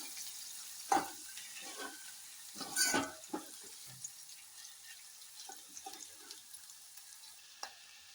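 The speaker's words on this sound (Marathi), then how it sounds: "यामध्ये आता कांदा टाकून घेते. यामध्ये कांदा परतून घेऊ." Onion sautés in oil seasoned with cumin, mustard seeds and asafoetida, a faint low sizzle broken by scattered scrapes and clanks of a spoon against the pan, one cluster louder and busier than the rest.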